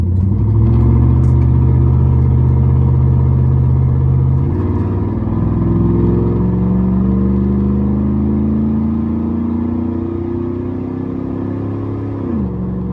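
Steady engine note from a car fitted with an aftermarket intake performance mod, heard from inside while driving, a smooth rushing drone that climbs in pitch as the car accelerates, then drops off abruptly near the end.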